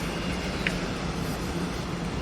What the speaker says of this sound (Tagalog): Dubai Metro.